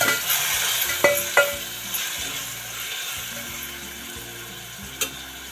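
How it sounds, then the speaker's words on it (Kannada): Tomatoes and onions fry in oil in a pan for egg masala, a steady sizzle with a few sharp scraping clacks from a stirring spoon, near and continuous throughout. "ಈಗ ಟೊಮೆಟೊ ಹಾಕ್ತಾಯಿದ್ದೀನಿ. ಇದನ್ನು ಸಹ ಫ್ರೈ ಮಾಡೋಣ"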